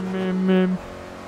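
A race car engine in the Forza Motorsport 3 video game drones with a steady buzzing tone that rises slightly in pitch, then cuts off abruptly into quieter background sound.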